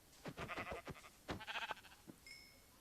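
Sheep bleating in the video game Minecraft, a few short wavering bleats at moderate level, followed by a brief tonal chime near the end.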